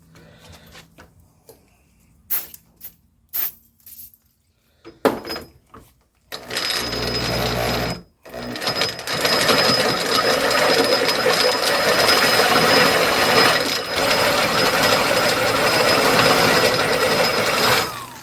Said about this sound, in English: My drill's starting to get warm, and the drill bit is scorching hot